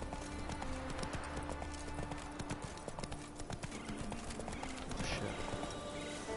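Hoofbeats of a horse galloping in the video game The Witcher 3, a steady rhythmic clip-clop at close range, with a brief spoken exclamation over it.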